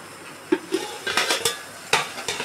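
Food being stirred in a cooking pan with freshly added slit green chillies, giving a series of sharp scrapes and clinks of the utensil against metal, close and fairly loud, with no talking.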